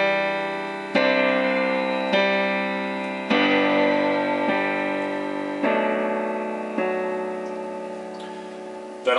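Piano plays the introduction of a song: full sustained chords struck roughly once every second and a bit, ringing and overlapping in a steady, unhurried pulse, with no voices.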